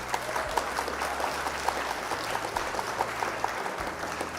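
Steady applause from a crowd at a card game event, dense and continuous clapping held at an even level throughout, with faint low hum beneath.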